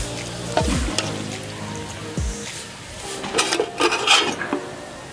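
A metal ladle scoops fried adhirasam from hot oil onto a plate. There are clinking metal knocks and scrapes against the pan and dish, with soft sizzle beneath. A cluster of light clatters comes near the end.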